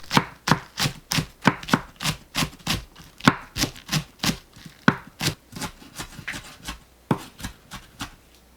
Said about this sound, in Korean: 파 한 뿌리를 자릅니다.